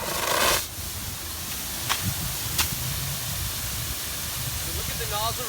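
Fire hose fog nozzle at 75 psi spraying water, fed through a gated wye on 2.5 inch and 1 3/4 inch hose, a loud steady rushing hiss close by with a voice talking over it.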